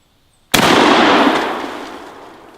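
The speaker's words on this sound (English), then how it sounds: "I'm just going to shoot this 2-liter right in front of me." A single sharp, loud WWI Mauser rifle shot fired at a 2-liter bottle just in front, cracking suddenly and then rolling off in a long decaying echo, with no voices.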